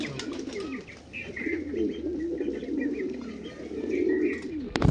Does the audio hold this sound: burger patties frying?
no